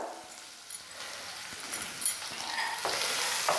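Ginger garlic paste fries for a cabbage, peas and potato stir fry, a sizzle that builds from quiet to a fuller crackle as it is stirred, with light clinks of the utensil.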